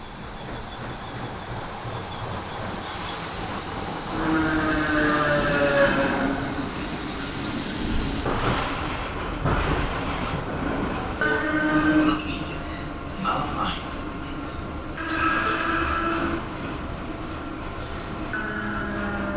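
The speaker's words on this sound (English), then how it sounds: "just waiting for the train" A train rumbles into a station in Dalkey, Ireland, and slows with rolling clatter and squealing brakes, loud and close, swelling and fading over several seconds; a dog barks briefly.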